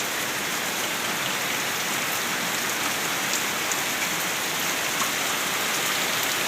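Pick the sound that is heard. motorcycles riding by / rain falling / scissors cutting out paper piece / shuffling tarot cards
rain falling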